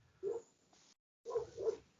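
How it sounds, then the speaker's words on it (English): A pet dog barks indoors, two separate bouts of muffled woofs heard fairly close, with a short silent gap between them and no talking. "Can you hear my dog barking? I can hear a dog barking."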